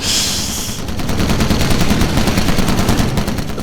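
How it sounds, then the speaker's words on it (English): Machine gun fire in the Call of Duty video game comes as a fast, unbroken burst of rapid shots, loud and close. A hissing sound fades out as the gunfire starts, and no one talks. "Your machine guns going crazy."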